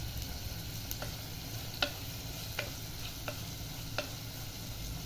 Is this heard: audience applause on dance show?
no